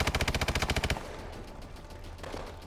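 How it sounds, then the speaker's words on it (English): A rapid burst of about a dozen close, evenly spaced automatic gunshots from a weapon in the shooter game Call of Duty: Advanced Warfare stops abruptly, leaving a faint noisy background. "Listen how strong this gun sounds."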